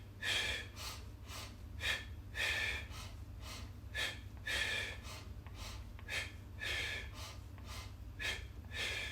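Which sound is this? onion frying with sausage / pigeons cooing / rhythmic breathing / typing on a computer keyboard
rhythmic breathing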